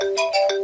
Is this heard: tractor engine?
no